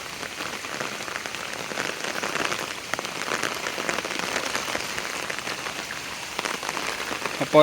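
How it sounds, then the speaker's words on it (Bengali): Heavy rain pours steadily onto surfaces during a flood, a dense, continuous patter of drops close by with no talking, ending in a brief louder bump. "আজকে দুই তিন ধরে বৃষ্টি কিন্তু আজকে বেশি"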